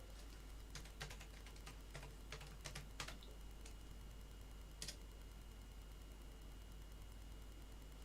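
A password goes in on a keyboard for a Raspberry Pi 4: faint, sparse key taps cluster in the first few seconds, then one last click, all over a steady low hum and hiss.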